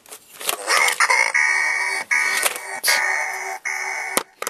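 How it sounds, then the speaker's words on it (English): A chicken clucks and crows close by in a series of loud, strained calls broken by short gaps, with sharp clicks between them, and no talk over it. "That's the chicken."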